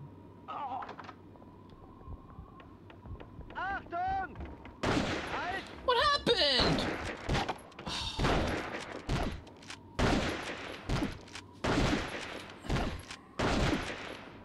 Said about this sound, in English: Germans, you're shooting an unarmed man 18 times in the back.